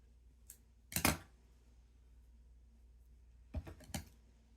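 Two brief bursts of sharp snipping as scissors trim yarn loops on a craft gnome, one near the start and a pair toward the end, separated by quiet stretches.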